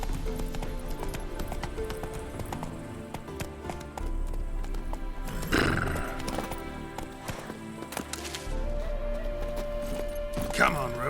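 Roach the horse gallops in Witcher 3, a steady clip-clop of hooves running under continuous game music, with a brief whinny or burst of effort near the middle and another near the end.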